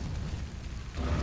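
An Incendio fire spell is cast in the Hogwarts Legacy video game, a low rumbling whoosh that swells near the end of the short moment.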